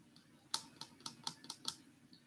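Several separate keystrokes tapped at a steady, unhurried pace on a keyboard during a writing session, fairly faint and close, with no talking.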